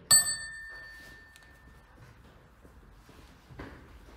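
A single bell strike rings out loud and bright at the start of a class session, then fades over about a second, followed by quiet room noise and a faint later clatter.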